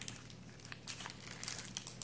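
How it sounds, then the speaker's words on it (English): A wax or foil wrapper on a 1992 O-Pee-Chee Premier baseball card pack is crinkled and torn open up close, giving a steady stream of crisp crackles and rustles for about two seconds, with no speech. "my pack open"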